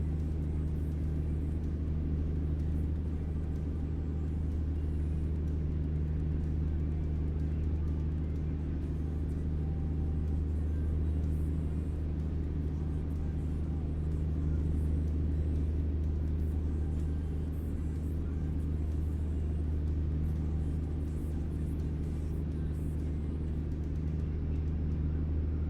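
In American Truck Simulator, a truck engine hums at a low, quiet, steady drone that holds unchanged for the whole stretch with no other clear sounds.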